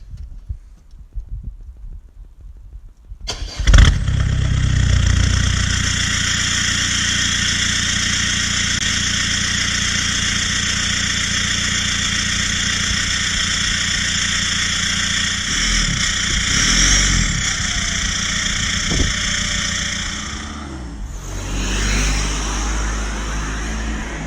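Audi A3 2.0 TDI fitted with a custom full-tube Miltek exhaust line fires up with a loud burst, then settles into a steady, droning diesel idle, close and continuous with no talk.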